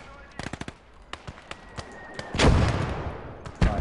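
Bursts of machine gun and rifle fire in the Hardcore Close Combat war game on the Russian front, sharp cracks in quick rhythm, then a heavier roar of gunfire with a distant boom near the end.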